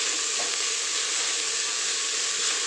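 Capsicum and vegetables sizzling in a pan for fried rice while being stirred, a steady loud hissing fry with faint scraping, no voices.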